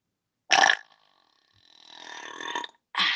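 A person lets out burps during a casual evening burping session: a short throaty burst, then a long drawn-out rumbling belch, and another abrupt burp at the end, all close and fairly loud.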